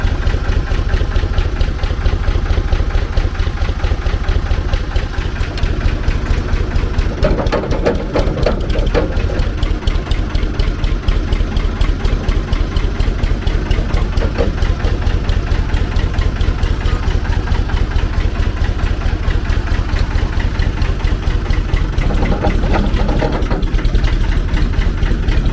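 A Sanderson offroad forklift's engine idles steadily and loudly up close, a continuous low mechanical rumble with a fast even chug that holds throughout, slight roughening partway through.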